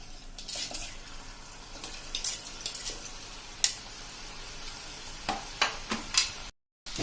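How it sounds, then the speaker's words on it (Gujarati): Purple yam (ratalu) pieces frying in hot oil for Gujarati undhiyu, a steady soft sizzle with occasional clinks of a metal spoon stirring against the pan. "એ જ રીતે હવે આપણે રતાળું તળી લેશું."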